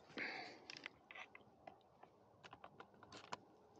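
An Arca-type plate on a camera carrying a 200-600 lens slides into the ball head clamp of a carbon fibre monopod, giving a quick burst of clicks and scraping taps, then scattered light metallic clicks, close and quiet.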